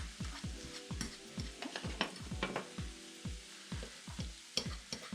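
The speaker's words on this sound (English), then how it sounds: "you're going to come every once in a while and just like stir it up with the fork" Ground meat fries in a pan for garbage plates while a fork stirs it, giving a steady sizzle broken by repeated scraping, clattering strokes at an uneven rhythm, close and fairly quiet, with no talking.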